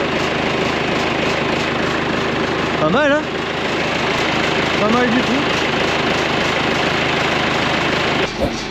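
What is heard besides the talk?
backhoe engine idling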